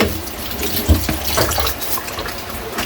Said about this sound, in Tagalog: Kaylee, hugasan muna natin yung atay natin